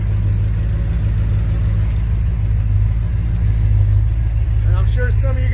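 A C3 Corvette with a 200-4R automatic transmission idles steadily after being shifted into drive, a loud, constant low rumble with a faint rising whine toward the end.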